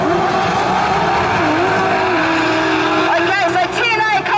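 Racing sidecars launch from the start gate at Rosebank speedway, engines roaring loud and continuous with rising, wavering pitch as they accelerate away, a commentator talking over the din.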